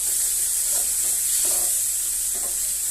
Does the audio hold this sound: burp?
no